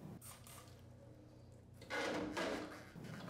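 A plastic ProControl unit is pushed down and pulled off a machine's manifold, giving a soft scrape followed by two louder, close clunking knocks near the end, with no talking.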